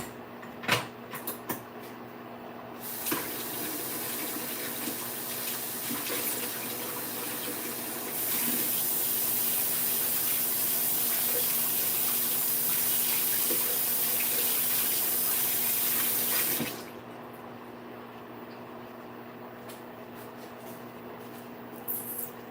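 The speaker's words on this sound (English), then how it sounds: "Let me wash my hands." Hands are washed under a running kitchen tap, the water stream rushing steadily for several seconds in the middle, bracketed by clatters and small handling sounds before and after, with no talk.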